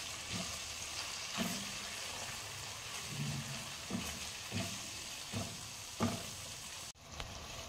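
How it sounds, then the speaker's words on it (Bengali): Ground cumin, coriander and chilli powder frying in oil for a vegetarian jackfruit dish, a quiet steady sizzle punctuated by periodic stirring scrapes of a spoon against the pan roughly once a second. "এবার আমি সমস্তটাই ভেজে নেব।"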